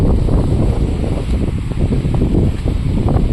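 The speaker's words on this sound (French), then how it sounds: "Dommage qu'il y a du vent." Steady wind blows at a hot, breezy campsite beside a parked motorhome, a continuous roaring buffet over the microphone with no letup and no talk.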